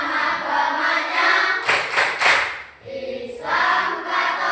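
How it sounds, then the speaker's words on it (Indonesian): A classroom group performs the tepuk toleransi clapping game, with loud, rhythmic hand claps in quick bursts separated by short pauses, mixed with voices chanting along. "sekarang kita mulai tepuk toleransi"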